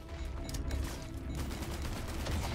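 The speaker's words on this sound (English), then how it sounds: "And then let's try out our grenades here." Grenades in the video game Risk of Rain 2 fire and burst in a dense, loud volley of overlapping pops and booms with rumbling low end, continuous over a couple of seconds.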